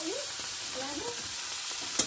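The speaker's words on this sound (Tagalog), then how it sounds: "prito tayo ng tuyo, pang malakasan" Dried fish (tuyo) fries in a pan with a steady close sizzle and crackle, joined by faint stirring and a brief sharper pop near the end; no one talks.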